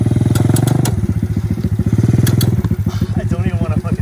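A Honda ATC 90 three-wheeler's small engine runs close and loud with a fast, throbbing pulse that slows and speeds slightly, and voices can be heard over it.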